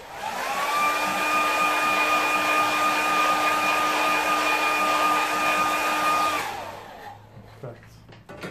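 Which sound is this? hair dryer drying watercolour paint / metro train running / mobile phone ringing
hair dryer drying watercolour paint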